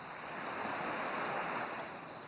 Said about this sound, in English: the sounds of the crashing waves